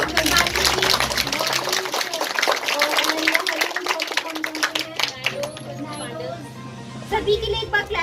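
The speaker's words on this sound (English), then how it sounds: "Clap for Gandhi ji" A crowd at a school event celebrating Azadi ka Amrit Mahotsav in Hathras claps for a winner in a dense, steady burst of applause that thins toward the end, with people talking throughout.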